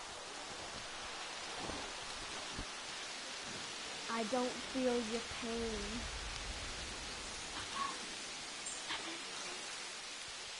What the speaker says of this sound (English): Oh no! A storm! I think it's just rain. Yeah, it's heavy rain.